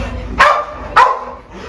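An excited dog at an SPA animal shelter gives two sharp, close barks about half a second apart, followed by a softer whimpering yelp, over a faint room background.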